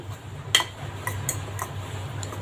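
A spork clinks against a bowl while mixing salt, pepper, onion, chili, turmeric and asafoetida for an egg omelette, giving a few sharp metallic taps at irregular intervals over a low steady hum.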